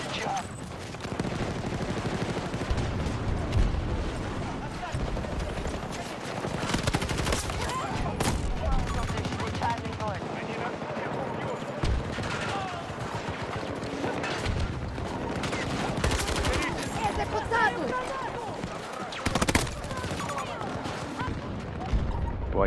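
GEW-46 rifle fire in the video game Battlefield 2042: rapid, dense bursts of gunshots crackle almost without pause, mixed with distant battlefield blasts and mechanical clatter, under occasional faint voices.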